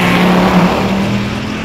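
SRT Viper TA engine pulling hard out of the turn 11 hairpin at Laguna Seca, a loud steady close-up drone from onboard the car that holds its strength throughout.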